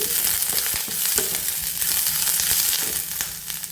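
Big sliced onion frying in a pan for a Mangalore-style chicken curry gives a steady, close, dense sizzle with crackling pops and occasional stirring scrapes, continuous throughout with no voices.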